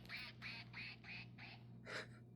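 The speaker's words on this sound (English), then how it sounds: "it takes him a second to quit quacking" A rubber toy duck quacks six times in a quick, even series, each quack clear and fairly close, with a steady low electrical hum running underneath.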